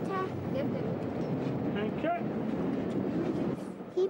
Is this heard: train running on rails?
yes